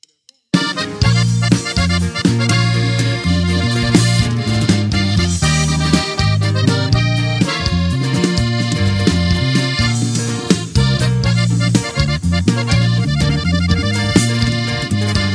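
A band plays a song live, a lively norteño corrido with bright accordion lines over a bouncing bass and rhythm, continuous and loud throughout, no speech.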